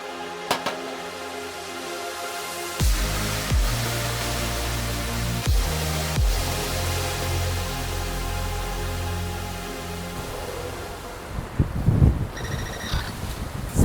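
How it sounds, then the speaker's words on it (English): Strong wind blows outdoors around bonsai trees in a garden, a steady loud broadband roar buffeting the microphone for the whole stretch, with a few low thumps early on and brief rattling near the end. "Pretty windy."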